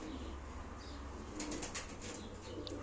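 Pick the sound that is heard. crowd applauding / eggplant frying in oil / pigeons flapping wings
pigeons flapping wings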